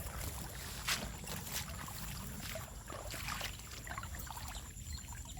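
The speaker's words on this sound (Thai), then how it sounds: "น้ำไหลครับ" Water trickling and flowing out near a fishing spot where baited lines are being checked in the early morning, a steady faint wash with a few brief splashy bursts, no voices.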